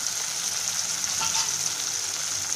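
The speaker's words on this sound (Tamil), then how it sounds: "தக்காளி போட்டு நல்லா வணக்கலாம்." Tomatoes sauté in oil in a pan for a spicy tamarind-style kuzhambu, giving a steady, even sizzle that holds close and moderately loud throughout, with no talking.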